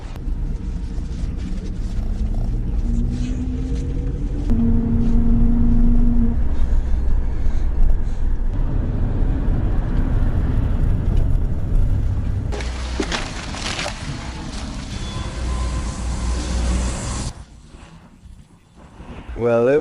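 Steady low engine rumble and road noise inside a city bus in Russia heading to the South Station, continuous throughout with a louder burst of rattle near the end, while people talk over it.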